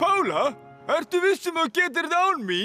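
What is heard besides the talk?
No distinct noise like a dog, phone or traffic.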